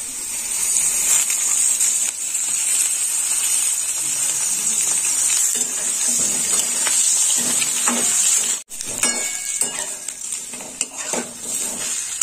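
Eggplant slices frying in oil in a pan for a spicy Bengali begun-bori curry, giving a steady bright sizzle throughout with scattered clinks and scrapes of a utensil against the pan.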